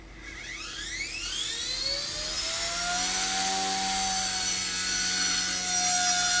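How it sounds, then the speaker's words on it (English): An XK Blast X110 RC helicopter's small electric motor whines up indoors as rotor blades spin faster, a rising high-pitched buzz that settles into a steady loud hum nearby. "So this is a really stable helicopter."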